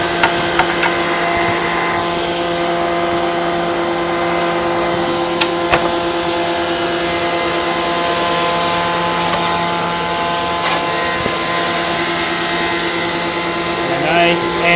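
A BJF-115 edgebander trims glue off PVC or wood edge banding, giving a continuous loud mechanical whine and hum with a few sharp clicks over about fifteen seconds.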